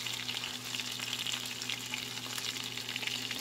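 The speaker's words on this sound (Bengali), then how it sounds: "এভাবে ভেজে নিব" Chicken wings fry in a pan over medium-low heat with a soft, even, continuous sizzle and faint bubbling that stays quiet and steady, with no voices.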